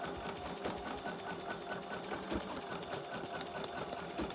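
Embroidery machine stitching out center designs on fabric, a steady, continuous rapid mechanical whir with even needle ticks throughout, fairly close and alone.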